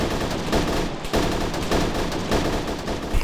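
Heavy sustained gunfire in ArmA 3 during a hostage rescue in Takistan, dense rapid bursts of rifle and machine-gun shots overlapping loudly throughout with no talk.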